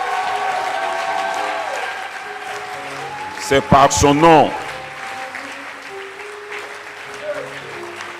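A church congregation's sustained applause and acclaim during a Sunday service, steady dense clapping throughout with a voice speaking over it and brief sung or shouted tones rising in the middle.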